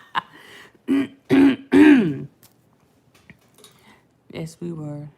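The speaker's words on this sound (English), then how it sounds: "I'm clearing my throat, coughing," A woman clears her throat with several harsh, throaty bursts close to the microphone, followed after a pause by another short clearing sound.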